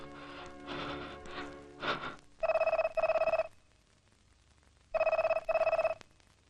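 A telephone bell rings loudly and close by in two sharp double-ring bursts separated by a quiet pause, after a brief murmur of other sound at the start.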